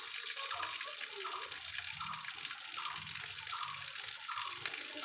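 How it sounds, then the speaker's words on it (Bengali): Water from a tap pours into a home-made swimming pool with a soft, steady splashing gush, fairly quiet and continuous, with faint voices in the background. "তো এখন এখানে আমি জল ছেড়ে দিয়েছি, দেখতে পাচ্ছ? হ্যাঁ, এখানে জল পড়ছে, দেখো।"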